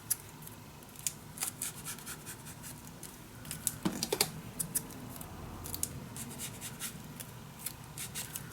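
Scissors snip through scrapbooking paper for an ocean-themed mini album, a quiet close run of short crisp cuts in an uneven rhythm, with a brief rustle of paper partway through.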